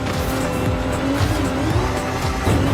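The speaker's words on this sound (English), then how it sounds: "This engine sound just seems a little more tame" A Dodge Charger in a racing video game drones with a steady, loud engine note while its tires squeal and skid in wavering bursts, continuous and close with no talk.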